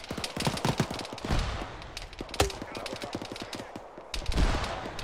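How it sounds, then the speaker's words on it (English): Rapid bursts of rifle and machine-gun fire from an Arma 3 military simulation battle crackle continuously, with several louder near shots standing out over the steady stream of gunfire. "Shooting over you, shooting over you."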